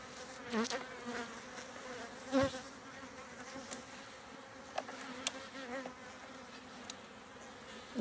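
A dense, continuous drone of many honeybees buzzing close by, with individual bees zipping past now and then.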